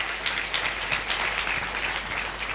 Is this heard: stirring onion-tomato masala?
no